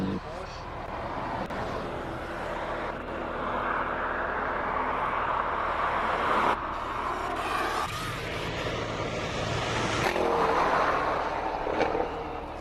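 A Porsche race car climbing at the Simola Hillclimb during the 2025 King of the Hill finals gives a sustained engine roar that rises and falls with gear changes, while a commentator talks over it.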